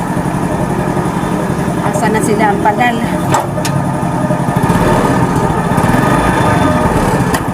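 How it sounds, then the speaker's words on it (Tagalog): A fuel-powered engine runs nearby with a steady, buzzing drone and a rough low rumble, while people talk over it. "I-off na lang natin tong makina at sayang ng gasolina."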